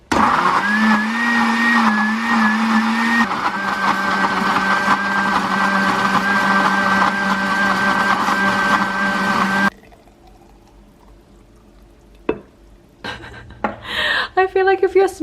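A blender whirs steadily at a constant pitch while blending a dark green smoothie of milk and algae, loud and close for about ten seconds before cutting out; afterward come quieter handling noises and a voice.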